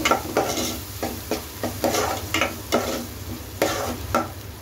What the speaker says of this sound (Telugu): పసుపు కూడా వేసుకున్నాం కదా, ఒకసారి కలిపేసుకుందాం